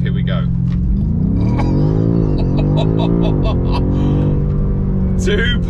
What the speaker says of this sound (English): launch control active, here we go